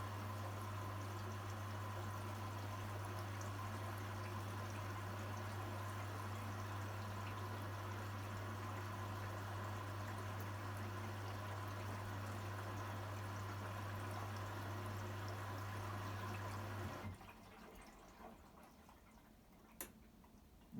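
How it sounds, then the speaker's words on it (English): Water runs through the softener valve of a Vestel washing machine in service mode, making a steady, close mechanical hum with a flowing wash that stops abruptly near the end, leaving near silence. "Now it's using the softener valve."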